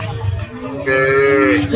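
A large cow lows at a village cattle market, a loud, long drawn-out moo rising after a short lead-in of low crowd noise, close to the listener.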